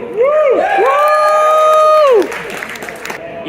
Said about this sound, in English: In a round of applause, guys, let's go!